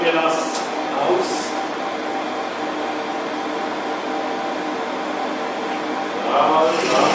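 A drill bores out the centre of a wooden drawer made from a used wine crate, producing a steady, moderately loud motor whine and hiss that swells slightly near the start and end.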